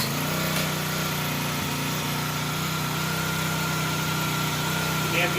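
Propane-powered ice fishing engine, not run for months, running at a steady idle after a rope pull, with a loud, continuous buzzing drone close by.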